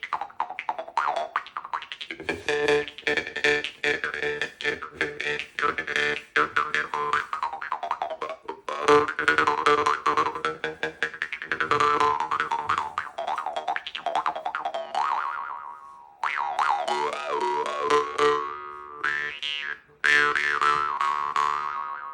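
A Johnson No. 4 jaw harp is plucked over and over, giving a twangy, buzzing boing whose pitch shifts as it rings, with a couple of short pauses.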